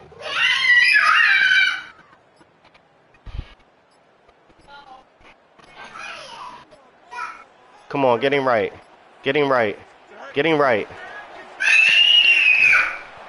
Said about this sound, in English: Why y'all screaming on purpose, though?